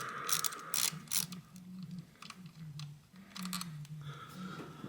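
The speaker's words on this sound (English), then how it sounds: "And it's a 10 millimeter bolt. So go ahead and loosen the bolt." A ratchet clicks in quick close bursts, loosening a 10mm ignition coil bolt on a 2003-2007 Honda Accord, over a steady low hum.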